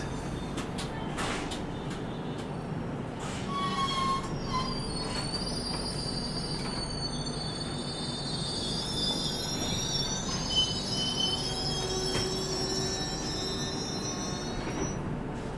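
The Andhra Pradesh Express brakes to a stop at Jolarpettai, with long, high metallic wheel squeals drawn out over a low rumble of rolling coaches and a few sharp clanks early on.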